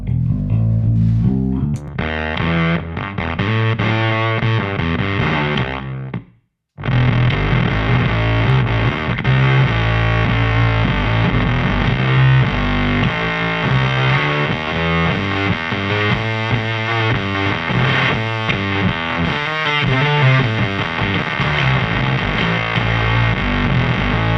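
Electric guitar through an extreme distortion pedal with amp bias and treble cut controls: a loud, dense, fuzzy stream of riffs and chords, briefly cut to silence once, then continuing without any talk.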